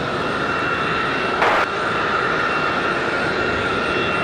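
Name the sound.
airplane at Raleigh Durham airport runway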